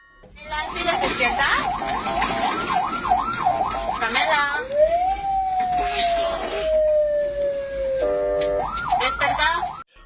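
A wailing ambulance siren cycles rapidly, then shifts to a long falling tone and back to yelping, loud and close, with voices underneath.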